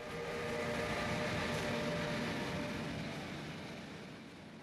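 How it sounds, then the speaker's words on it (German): Trains at one of Germany's largest freight yards, a steady broad rumble and rolling rail noise that swells and then slowly fades, heard alone with no voices. "Der Eisenbahnfreund kann hier manchen interessanten Zug beobachten."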